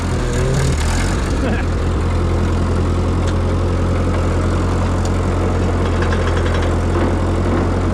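A carbureted engine on a piece of hydraulic equipment idles steadily while warming up, a loud continuous low rumble close by with a brief rougher surge at the start.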